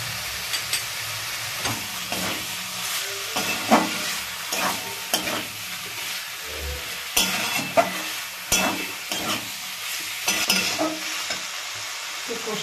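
Chicken filling stir-fried with salt in a pan sizzles loudly and steadily, while a spatula scrapes and clacks against the pan in irregular bursts, with no talking.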